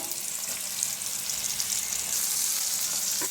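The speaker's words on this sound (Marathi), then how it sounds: "तेलात भाजून घे बरं" Steady, bright sizzle of food frying in hot oil in a pan, a continuous close hiss that keeps an even level throughout, with no talking over it.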